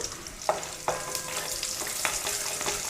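Peanuts and dried red chilies fry in hot oil for a puffed-rice murmura mixture, giving a steady close sizzle and crackle with a few sharp clinks from stirring.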